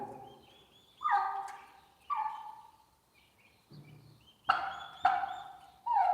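Turkeys gobble nearby in repeated bursts, several rattling calls spaced a second or so apart.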